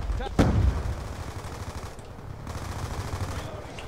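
MP7 submachine gun fire in the Black Ops 2 video game, a sharp shot followed by rapid rattling bursts of automatic fire under continuous game noise, with players talking alongside.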